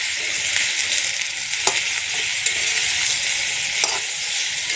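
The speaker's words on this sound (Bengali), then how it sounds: "সবটাই আমি ভাজা ভাজা করে নেব" Loud, continuous sizzling of onions frying, with occasional soft scrapes of a spoon stirring through the pan; no voices.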